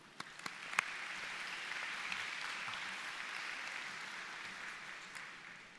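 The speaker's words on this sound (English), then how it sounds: "Let's please give them a round of applause." Audience at a Wagener-Salley High School event applauding steadily for several seconds, a dense wash of clapping with a few louder claps at the start.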